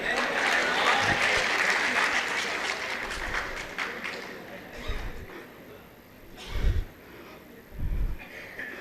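An audience claps for a poem at a Hindi poetry reading: sustained applause fills the first few seconds, then fades into scattered claps and a few louder thumps.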